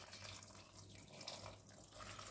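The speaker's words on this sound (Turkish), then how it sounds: "İçerisine suyumuzu koyacağım." Water streams steadily into a pot of leeks with a continuous splashing hiss, close and even, with a low hum underneath.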